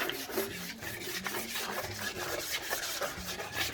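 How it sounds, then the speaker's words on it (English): Sandpaper rubbing over the waxed base of a snowboard gives a steady, close scratching rasp in quick repeated strokes, with no voices. "a little sandpaper will work. Whatever puts a little scratching into it, just a little bit."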